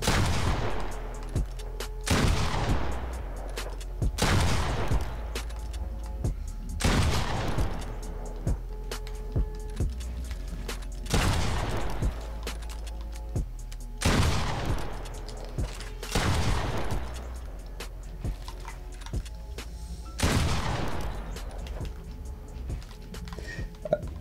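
Rapid bursts of gunfire in the Fortnite video game, with repeated volleys about every two to three seconds over a steady rumbling game backdrop, loud and close with no talk.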